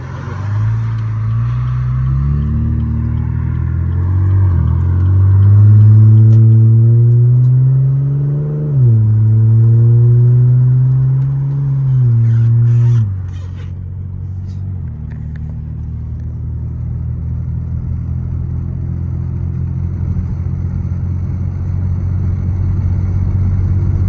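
A car driving on the road with a loud, close engine rumble that rises and falls through several accelerations before settling into a steadier, lower drone.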